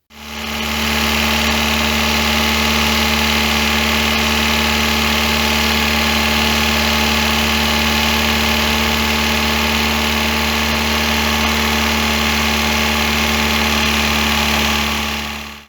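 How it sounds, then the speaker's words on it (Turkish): An Opel Astra G idles high at about 2000 to 2500 rpm because of a faulty idle control motor. Its constant, loud, even engine hum with slight vibration continues unchanged throughout, with no voices. "Arabayı çalıştırıyordu kendi kendine 2500 devirde 2000 devirlerde çalışıyordu."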